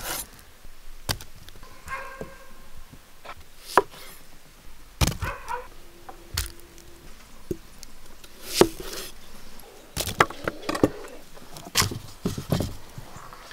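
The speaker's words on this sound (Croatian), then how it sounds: "Luk ću samo prepoloviti." A knife halves onions while beef ribs are being prepared for a whole village. Scattered sharp chopping knocks and thuds sound against a quiet background, with several louder cuts clustered toward the end.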